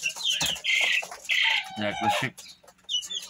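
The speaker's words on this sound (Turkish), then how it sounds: "4 haftalık olan civcivlerimiz portatif kümesimize koyduk" Four-week-old chicks in a portable coop peep and cluck in shrill, close bursts, with a few louder calls and a brief voice partway through.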